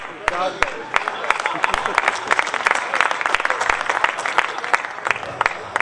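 Audience applause at a mushaira, an Urdu poetry recital in Fazilka, India: dense, sustained clapping from a large crowd filling the hall, steady and loud throughout with some voices mixed in.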